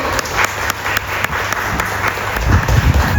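An audience at a stage event claps steadily to welcome a guest, a dense even patter of applause that swells slightly toward the end.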